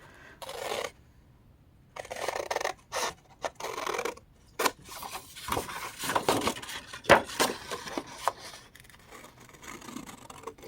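Scissors snip through a 12x12 paper sheet that has been blocked for card making. The cuts come in short, irregular bursts of crisp rasping snips close to the mic, with brief pauses between them.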